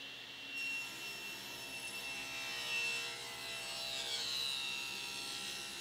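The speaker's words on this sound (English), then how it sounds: "I've set the fence at 5/8 of an inch, and I'll make the rip" A table saw rips a length of wooden cove molding with the fence set at 5/8 inch, giving a steady, sustained whine and rasping cut that holds at an even level for several seconds without speech.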